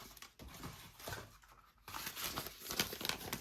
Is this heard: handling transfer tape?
yes